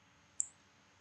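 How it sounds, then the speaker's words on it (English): A single sharp computer mouse click on the address bar, close and crisp, then quiet. "Copy this path by clicking on the address bar."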